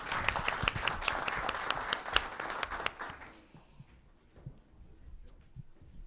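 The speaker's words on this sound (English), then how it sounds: "Ladies and gentlemen, let's hear a big round of applause again." Audience applause at a business leaders forum CEO discussion, a steady round of many hands clapping that dies away after about three seconds into a quiet room with a few scattered claps.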